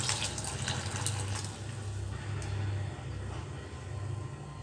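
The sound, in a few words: pouring thick coconut milk into boiling rasam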